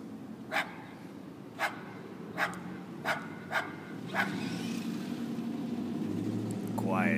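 A dog in a video game barks about six times in a loose, evenly spaced series, then stops. The barks sound fairly close over a low background rumble, and a voice is present.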